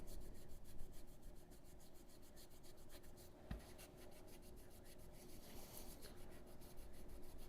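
Abrasive fret erasers rubbed along the frets of a Donner DLP1234B LP-style electric guitar, making quick, steady back-and-forth scrubbing strokes, close and quiet, continuous throughout.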